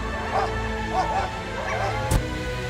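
A chained sled dog yelps and whimpers in short repeated cries while a polar bear attacks it, heard amid steady background noise with a sharp thud near the end.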